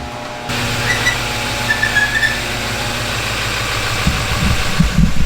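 A GMC Denali pickup truck engine idles unusually high, a steady close engine drone with a low rumble and faint knocking that runs alone throughout.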